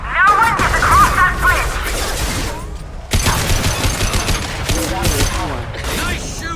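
Rapid gunfire bursts in the Mass Effect 2 video game, loud crackling volleys with crashes and impacts, a short pause midway before the shooting resumes, with game voices mixed underneath.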